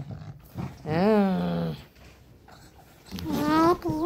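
A pet dog growls in two drawn-out, rising rumbles separated by a quiet gap, close and fairly loud, with no talking over it.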